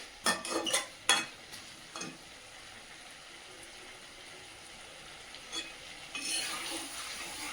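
Meat fries slowly in a pan for a Bengali-style dish. Several sharp clinks of a spoon stirring come first, then a low, steady sizzle, with more scraping toward the end.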